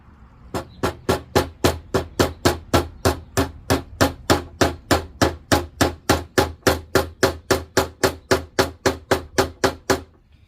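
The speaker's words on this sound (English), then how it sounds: "So what I'll do is I'll get all these nails set" Nails are hammered into wooden window stops during a window repair, about thirty sharp, evenly spaced hammer blows in a steady rhythm, close and loud with nothing else heard.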